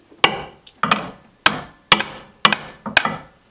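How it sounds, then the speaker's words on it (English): A hammer strikes a fuel injector adapter on a 2005-2010 Jeep Grand Cherokee CRD diesel engine, six sharp metallic blows at a steady rhythm, close and loud with short ringing decays. "hit the injector with a hammer a couple times."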